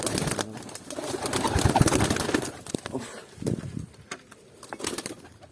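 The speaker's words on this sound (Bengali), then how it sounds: "সব বেরিয়ে গেল পায়রাগুলো।" Pigeons cooing nearby with bursts of wing flapping as birds take off, busy rustling that thins out toward the end.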